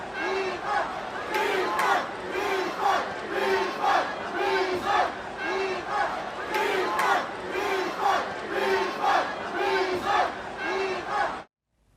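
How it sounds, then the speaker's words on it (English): Football fans at an Inter Miami match chant "refund" in unison, a large crowd repeating the rhythmic two-beat call again and again, loud and roomy, before it cuts off abruptly. "They started chanting refund during the match"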